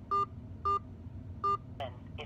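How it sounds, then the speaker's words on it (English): Touch-tone keypad beeps from a phone as a number is entered on an automated customer service line for a money transfer account, three clear even tones spaced apart, followed by two brief softer electronic chirps. "Enter your phone number beginning with area code."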